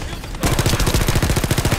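Rapid, heavy cannon fire in the video game The First Descendant starts abruptly after a brief quiet moment, then hammers on in a steady, loud stream of booming shots.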